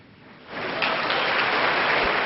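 Audience at a Guru Purnima religious gathering breaks into applause, a dense burst of clapping that swells after a quiet start and holds steady and loud to the end.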